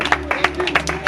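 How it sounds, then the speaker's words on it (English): Short round of hand clapping from a small group, a few sharp separate claps in quick uneven rhythm, fairly close and loud, with a low hum underneath. "Give a round of applause, please."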